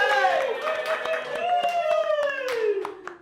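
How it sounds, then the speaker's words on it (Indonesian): At the end of a customs sea-patrol podcast, people clap in sharp, scattered claps while a voice keeps talking over them. "boleh berikan tepuk tangan kepada Kapten Bangkit."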